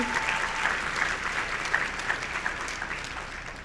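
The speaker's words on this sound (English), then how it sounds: "can we please give a round of applause for my parents?" Audience applause at a multicultural university graduation ceremony, honoring a graduate's absent parents: steady, moderately distant clapping from a large crowd filling the hall for several seconds without fading.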